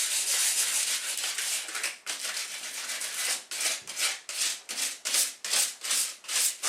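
Sandpaper rubbed over a painted wooden table to distress its antique-white chalk-style finish, close and loud: a steady scrubbing stretch, then quicker rhythmic back-and-forth strokes in short bursts.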